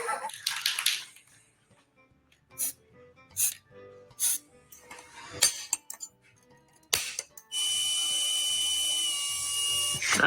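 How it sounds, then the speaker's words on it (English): A power drill with a good drill bit bores through metal in a workshop: scattered knocks and clinks first, then a loud, steady high-pitched whine that runs continuously through the last few seconds. "That there is why you buy good drill bits."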